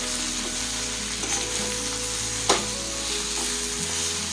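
Steady sizzling of a raw tomato chutney mixture with jaggery powder being stirred in a frying pan, with soft scraping and stirring sounds throughout and a brief clink midway.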